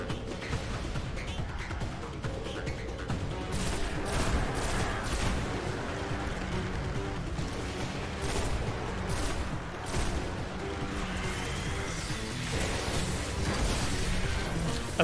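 Dense, continuous video game gunfire with rapid shots and bursts layered over music or ambience, sustained and fairly loud, with no talking.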